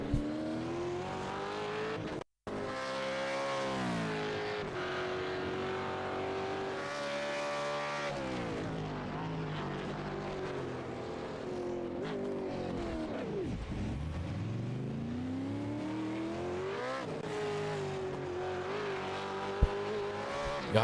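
GT race cars scream around a circuit, engines rising and falling through gear changes as they pass, with a sharp dip as one car slows and howls back up to speed, loud and continuous.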